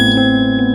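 A bright notification bell ding rings out alone, a sustained tone with steady overtones holding through the short moment without fading.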